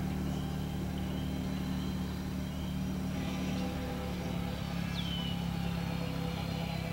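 A four-wheeler ATV drones through the woods, its engine a constant low rumble that holds steady throughout at moderate distance, with no voices.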